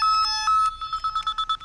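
An outgoing phone call rings at close range with a pair of short electronic tones followed by a quick run of repeated beeps, all clean and alone.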